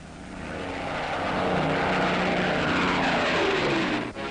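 Propeller bombers loaded with 12,000-pound bombs climb in flight toward the Arctic, their engines making a loud, steady droning roar that swells and holds before cutting off sharply at the end.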